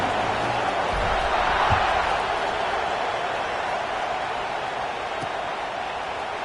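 Stadium crowd at an LSU versus Penn State college football game as the kickoff is set, a broad steady roar of many distant voices filling the whole stretch at even loudness.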